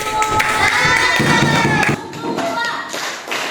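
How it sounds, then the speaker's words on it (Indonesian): Schoolchildren clap together in a classroom during a lesson, a dense burst of claps and thumps that breaks off sharply, followed by scattered taps and some voices. "Oke, tepuk tangan dulu."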